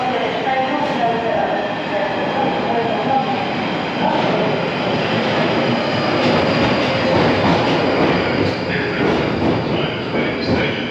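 London Underground Northern Line train running through the tunnel, a continuous loud rumbling roar with faint clicking of wheels on rail joints, and speech heard faintly within the noise.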